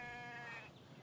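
A single short bleat from a sheep in the video game The Infected, faint and tonal, lasting about half a second before quieter background hiss.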